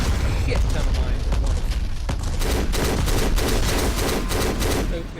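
Dense rapid gunfire and repeated blasts from the shooter game Black, loud and rhythmic bursts rattling throughout with heavy booms mixed in, a voice talking over the action.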